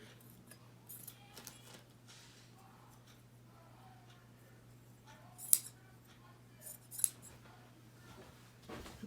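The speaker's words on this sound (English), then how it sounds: "cut the arms off right around the seams" Scissors cut the arms off a t-shirt along the seams in a quiet room, giving faint, scattered snips and soft fabric rustles with a few sharper clicks over a low steady hum.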